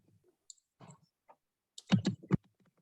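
Fingers tap on an iPad keyboard, giving a few sparse soft clicks, then a quick close burst of several taps near the end.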